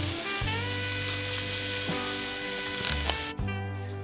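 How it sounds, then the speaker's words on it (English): Chopped onion and garlic cloves hitting hot oil for a salmon spinach dish produce a loud, steady sizzle with a faint tonal hum underneath, cutting off sharply near the end. "On a hot oil, chop half an onion, 4 garlic cloves"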